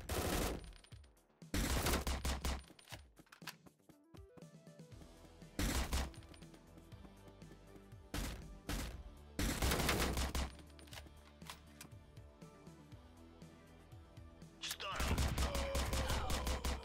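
Repeated bursts of automatic gunfire from a SWAT tactical shooter, Door Kickers: Action Squad, loud rapid volleys separated by quieter stretches with thuds and game effects, strongest near the start, middle and end.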